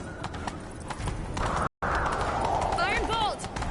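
Hooves clip-clop rhythmically as a horse runs in a video game, with a brief cut partway and a whinny near the end, while voices talk over it.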